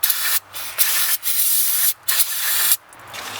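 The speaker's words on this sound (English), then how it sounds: "Spray it with some brake cleaner to clean it up." Several bursts of aerosol brake cleaner spraying onto Toyota Camry rear brake parts, hissing loudly, separated by short gaps, with a faint low hum underneath.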